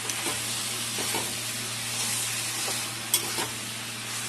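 Spice paste of onion, garlic, green chilli, cumin, coriander and red chilli powder frying with vegetables in a pan, a steady close sizzle with scraping stirring strokes throughout.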